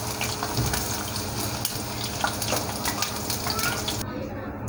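Okra (bhindi) sizzles in hot oil, a close, steady crackling fry with a few stirring clicks and scrapes throughout.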